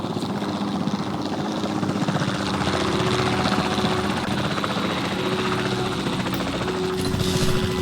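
A helicopter in a dinosaur video game flies steadily, its rotor chop and engine whine forming a constant, fairly loud drone throughout, with no talking.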